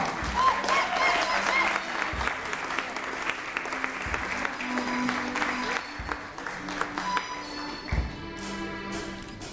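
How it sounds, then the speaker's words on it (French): Audience applause at a diploma award ceremony, sustained clapping from a crowd throughout with a few sharper individual claps standing out near the end. "Nous appelons messieurs, sous vos applaudissements, Moubika, Georges, Carrington."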